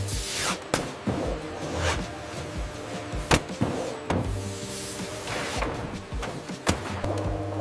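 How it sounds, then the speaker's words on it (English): Labeling machine in a Heinz ketchup factory, with rotating cylinders wrapping labels around bottles: a steady mechanical hum broken by repeated sharp clicks and swishes at an irregular rhythm, moderately close. "Rotating cylinders smoothly wrap the brand label around the bottle's body."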